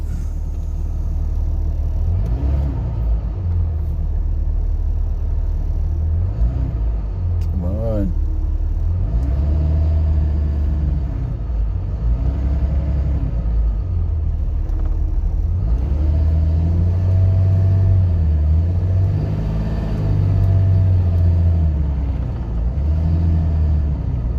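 A car pulling off along a canyon road, its engine rumbling and revving in low, rising sweeps over a steady outdoor background, with people talking nearby.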